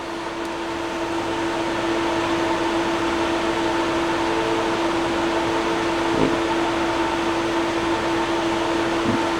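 Compressed air blowing out the back of an RX 570 graphics card, a steady loud broadband hiss with a constant tonal whine, running continuously for about nine seconds close to the microphone.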